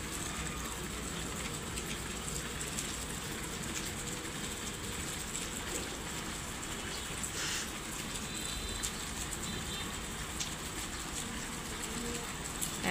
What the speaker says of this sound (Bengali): অনেক বৃষ্টি পড়ছে